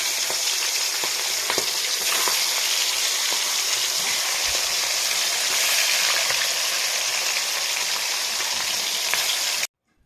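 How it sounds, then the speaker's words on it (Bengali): Fish fry in hot oil with a loud, dense, continuous sizzle and crackle that holds steady for several seconds before cutting off abruptly. "তেল গরম হয়ে গেছে মাছগুলো ছেড়ে দেবো"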